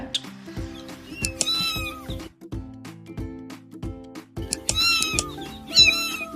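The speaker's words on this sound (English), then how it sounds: "cat," A cat meows repeatedly in short, insistent calls with rising and falling pitch, heard loud and close over a simple electronic backing tune.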